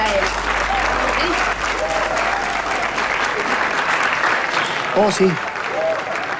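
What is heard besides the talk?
audience applause for Simón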